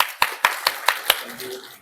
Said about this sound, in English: let's give Karthik a round of applause